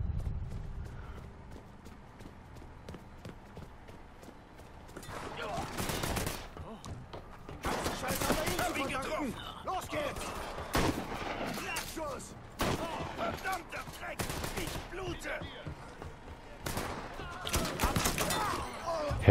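Gunfire in the Mafia III video game comes in several loud bursts of sharp shots separated by quieter stretches, with someone talking over parts of the action.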